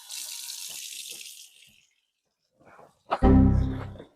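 Tap water runs into a kitchen sink while a newly installed garbage disposal is checked for leaks, a close, steady splash for about a second and a half that then stops. A short loud tonal sound follows near the end.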